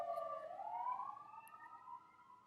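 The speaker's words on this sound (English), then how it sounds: "Sorry, I just want the siren to pass." An emergency vehicle siren wails steadily, its tone sliding up and holding as it passes, fairly loud at first and fading slightly toward the end, with no talking.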